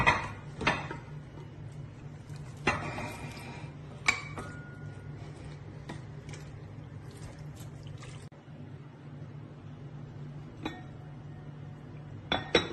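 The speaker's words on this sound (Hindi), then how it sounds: "अब मैं आपको डिश आउट करके दिखाती हूँ।" Metal dishes and a serving spoon clinking while chicken korma is dished out, several sharp separate clinks at irregular intervals over a low steady hum, close and fairly quiet, with no talking.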